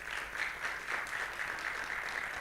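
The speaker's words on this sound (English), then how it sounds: "Please give a round of applause of him." Audience at a youth summit applauds, a short burst of steady clapping from a crowd, moderately faint and continuous with no talk over it.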